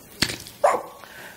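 A dog gives a sharp, close bark followed a moment later by a higher whimpering yelp, two distinct bursts over a quiet background.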